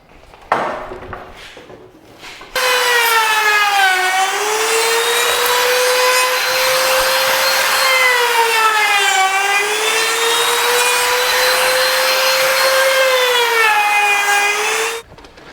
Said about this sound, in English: Now I'm going to router it because I like things kind of finished edged.